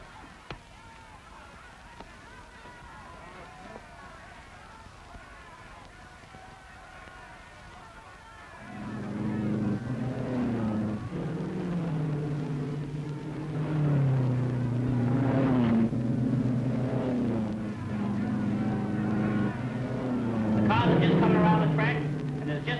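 Race cars in an oval race before Indianapolis, engines droning and rising in pitch as they pull away, loud and sustained beneath an announcer's voice.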